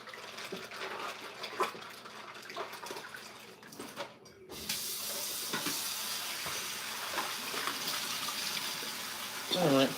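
Running tap water splashes while food is washed in a home kitchen, a fairly quiet, continuous spray that stops briefly and resumes, with clattering handling sounds and faint talk in the background.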